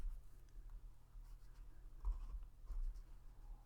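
An integral is written on a board: a quiet, close scratching and rubbing of the writing stroke with small bumps as the letters form. No voices are heard over it.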